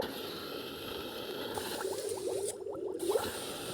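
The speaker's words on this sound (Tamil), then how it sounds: "கம்பி மத்தாப்பு தண்ணிக்குள்ள நினச்சாலும் எரியும்னு சொன்னாங்க" A wire sparkler burning underwater: a fizzing, bubbling sizzle rises over steady background hiss, with quick crackling pops building near the end, fairly faint and without speech.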